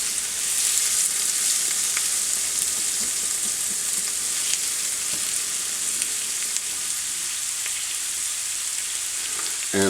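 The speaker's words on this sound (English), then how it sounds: "And now we are going to add our onions and garlic." Chopped onions and garlic frying in a pan for homemade meatloaf, a steady bright sizzle that holds evenly throughout with faint stirring clicks underneath.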